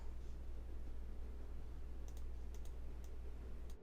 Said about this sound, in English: I pressed the actual arrow keys.